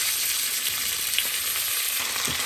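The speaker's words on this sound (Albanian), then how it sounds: "në tigan kam hedhur edhe vaj, edhe vaj është nxehur bismillah me një herë qesim mishin me kavërdik" Chicken meat with onions sizzles and crackles steadily in hot oil in a frying pan, a dense, continuous frying hiss with no talking.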